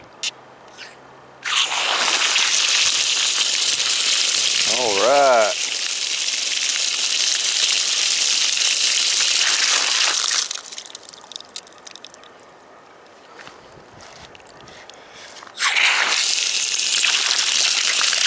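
Water gushes loudly from an outdoor faucet on a newly installed drip irrigation water line in a steady rush, cutting out briefly before surging again, with a short spoken word near the start.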